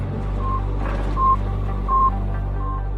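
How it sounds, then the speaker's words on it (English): The Soviet Sputnik satellite's radio signal from 1957: a steady series of short, evenly spaced electronic beeps over a low hum and static, like a faint radio transmission. "This is the sound of Sputnik."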